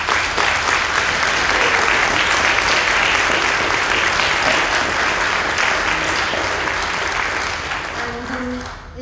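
A large audience applauds steadily and loudly, dense clapping that holds for several seconds before gradually tapering off.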